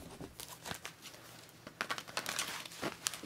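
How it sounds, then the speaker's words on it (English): Tarot cards being shuffled by hand give light, crisp riffles and soft flicks in irregular bursts, close and fairly quiet with no talking. "I'm just going to quickly shuffle these cards."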